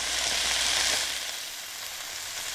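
Ground pork frying in a pan for a stir fry, a loud, dense sizzle that holds steady, easing slightly after the first second, with no voices.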